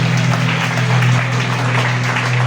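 Church congregation applauding and acclaiming together, a steady, dense wash of clapping and crowd noise over a sustained low hum, continuous throughout.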